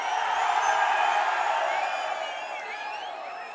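A large crowd roars and cheers at a political rally in Ramanathapuram, Tamil Nadu: a dense, sustained wash of voices with a few whoops, loud at first and easing slightly toward the end.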